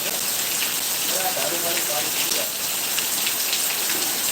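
Steady monsoon rain in the Gir area near Khambha patters and hisses continuously, a dense wash of drops with no pauses, fairly close and even in loudness.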